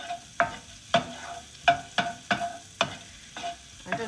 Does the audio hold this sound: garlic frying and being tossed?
yes